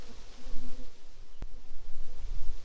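Honey bees hum steadily from an opened brood box in a large double-deep hive full of brood, a dense close swarm drone with one sharp crack partway through and no talking.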